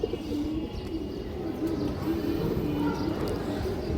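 Fancy-breed pigeons coo in a repeated series of low, rolling calls over a steady noisy background, the coos recurring close by at a regular pace.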